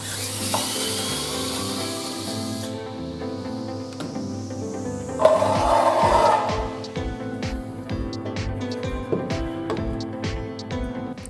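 Bolts are unscrewed to take the front cover off a Came ATI 3000 gate motor: a close mechanical whir with a run of rhythmic ticking pulses, plus scattered metallic clicks and handling noise. No one speaks.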